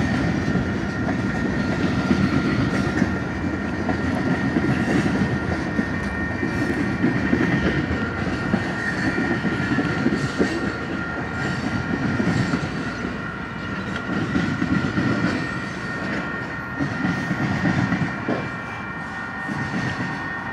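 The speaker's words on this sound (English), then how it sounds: "Here's the UP local. Hauling some tankers today," Union Pacific local freight train hauling tank cars rolls past close by, a steady loud rumble of wheels with rhythmic clickety-clack over rail joints throughout.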